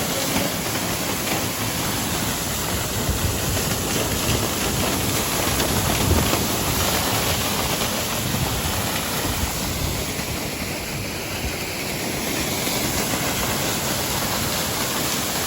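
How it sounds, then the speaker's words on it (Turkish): An old village waterfall pours with a loud, steady, broadband rush of falling water that stays constant at close range, with no voices. "Kameramanımız göstersin şelaleyi."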